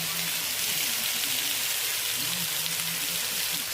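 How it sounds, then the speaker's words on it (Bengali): Potatoes fry in hot oil with a steady, dense crackling sizzle that stays even throughout, while faint tonal hums sit low underneath. "তেল গরম হয়ে গিয়েছে, আলু দিয়ে দিলাম।"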